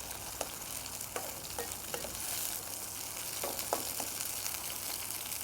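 Garlic and curry ingredients frying in oil over high heat, a loud, steady crackling sizzle with scattered sharp spits and light utensil taps throughout.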